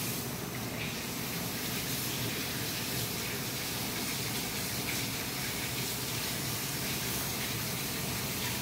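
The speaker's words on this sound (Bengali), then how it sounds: "আমি একটু হাতটা ধুয়ে নিই।" Running tap water pours steadily while hands are washed under it, a continuous close rushing gush with no pauses, and a faint voice may sit beneath it.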